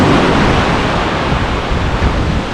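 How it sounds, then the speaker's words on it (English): Ocean waves crash on the New Jersey shore, a loud, continuous roar of surf with wind noise buffeting the microphone and no talk. "if you look over there at the end of the pipe, you'll see those waves crashing"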